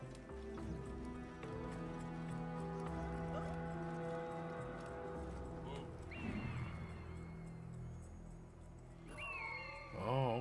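A horse in the game Assassin's Creed Origins, with steady clip-clop hooves and snorting under a continuous music bed, then a brief whinny near the end.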